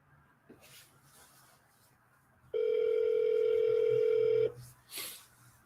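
A single steady ringback tone sounds for about two seconds through a phone line during a follow-up call, with quiet background noise and faint handling sounds before and after.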